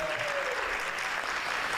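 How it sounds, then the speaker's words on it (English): An audience gives the host school, the School of the Future, a round of applause, a thick, steady wash of clapping filling the room, with a faint whistle-like tone near the start. "Come on, give them a round of applause."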